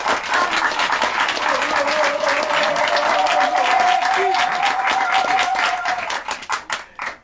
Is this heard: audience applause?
yes